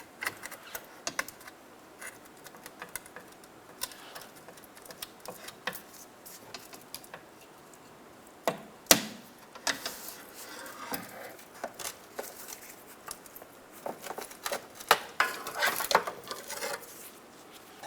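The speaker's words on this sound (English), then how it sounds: "Keep traveling down the harness, taking off the plastic clips" Plastic clips being pried off a rear wheel speed sensor harness on a 2007-2012 Nissan Altima, producing irregular small clicks and snaps, close up, with a few sharper pops around the middle and toward the end.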